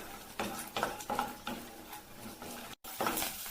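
Peanuts are stirred and fry in oil in a pan, giving soft scraping and sizzling bursts in an uneven rhythm. The sound is close and fairly quiet, with a brief silent gap near the end.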